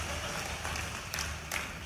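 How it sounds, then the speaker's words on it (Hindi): An audience at a gathering claps together in a dense, steady patter, heard a little distant, with a couple of sharper bursts near the end. "ताली वाली बजा के बताओ"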